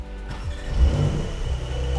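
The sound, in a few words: Porsche sports car engine starting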